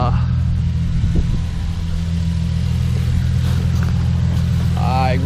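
An Infiniti G37 idles in a garage during an oil change, a steady low engine rumble running the whole time, close and even, with a person briefly speaking over it near the end.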